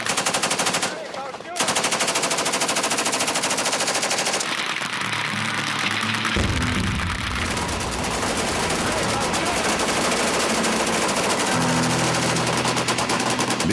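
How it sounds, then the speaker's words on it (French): Firearms fired at a shooting club: long bursts of rapid automatic gunfire, loud and close, going on nearly without a break, with a short lull near the start. "Les clubs de tir tels que celui-ci permettent d'essayer une grande variété d'armes à feu."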